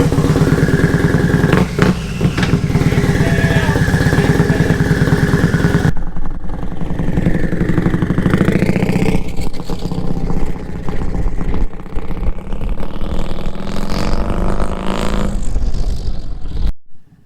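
A Harley-Davidson motorcycle fitted with a Trask Performance turbo kit fires up for the first time, its loud engine idling roughly and then revving up and down repeatedly, close and unbroken until a sudden cutoff at the end.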